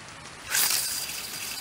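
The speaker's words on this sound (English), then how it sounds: "Here's the rain." Rain in the survival video game The Infected, set beside a fishing spot, rising suddenly into a steady bright hiss of falling water that holds on through the rest of the moment, fairly close and without talk.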